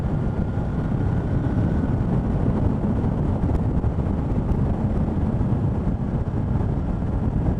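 Steady engine drone of a Moto Guzzi V11 motorcycle held at about 3,500 RPM while riding, a smooth, even low-frequency hum blended with constant wind rush, no voices.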